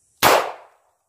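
A single sharp gunshot from a .38 Special revolver firing Monarch 158gr SJHP ammunition, loud and close, with a sudden crack that decays over about half a second and is followed by silence.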